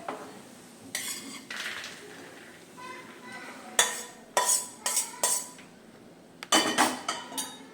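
Ghee-roasted dry fruits for khajur pak are scooped from a metal pan with a spoon, giving close, repeated scrapes and clinks in uneven bursts, with a voice speaking in the background.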